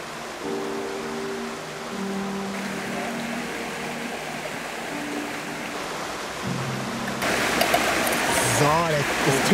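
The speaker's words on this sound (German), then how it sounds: "Das Tee blubbert schon, der Tee ist fertig." Herbal tea brewed outdoors from freshly picked wild herbs bubbles in a steady, rushing watery wash, with a voice talking over it and the noise swelling louder near the end.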